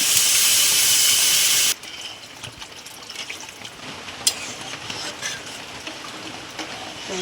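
Water is poured into a pot of fried chilies, a loud rushing hiss for a moment that cuts off abruptly, then a quieter bubbling sizzle with occasional clinks.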